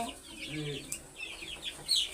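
Chickens on a poultry farm, young birds being raised on starter feed, cluck in short, repeated calls at close range, with brief higher chirps over a light farmyard background.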